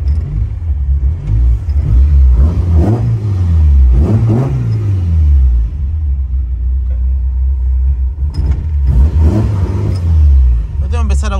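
A vehicle engine revs up and down in a few rising and falling surges over a steady low rumble, loud and close throughout.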